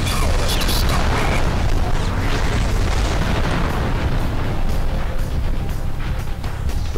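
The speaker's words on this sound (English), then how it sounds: "Those explosions look amazing." Loud, dense explosions in the video game MechAssault 2: Lone Wolf, booming one after another, a continuous heavy barrage with sharp bursts layered over deep rumbling.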